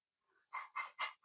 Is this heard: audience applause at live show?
no